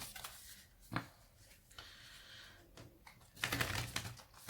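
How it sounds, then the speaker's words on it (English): Quick bursts of papery riffling and soft card slaps as a deck of tarot cards is shuffled, with a louder flurry near the end, close and fairly quiet. "there's a quick shuffle"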